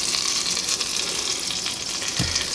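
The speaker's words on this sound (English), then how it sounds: "Now we're gonna put the butter in here over the medium heat" Butter sizzles and crackles steadily as it melts in a pan over medium heat, a close, continuous frying hiss with a faint stir or clink near the end.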